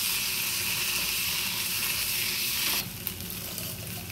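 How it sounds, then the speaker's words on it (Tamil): Spices and tomato sizzling and frying in hot oil in a pan for a Jaffna-style spicy shrimp curry, a steady close crackling hiss that drops slightly in intensity partway through. "இதோட கலந்து அந்த எண்ணெயிலே கொஞ்சம் தாளிக்க விடணும்."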